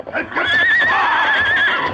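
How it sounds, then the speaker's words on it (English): A horse in an old western radio drama gives a loud, shrill, wavering whinny that rises and sustains close up after a brief rustle, with hoof clatter and voices around it. "Miller's horse had suddenly stopped short"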